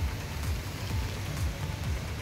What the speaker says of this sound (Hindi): बारिश की वजह से एक तरफ मौसम सुहावना हो गया है